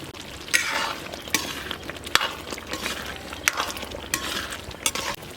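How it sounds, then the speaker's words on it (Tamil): A spoon stirs thick eggplant kara kuzhambu in a pot, a soft continuous scraping and sloshing with a few sharp clinks of metal against the rim, close and steady with no voices. "அப்படியே நல்லா கலந்து விட்டுறலாம்."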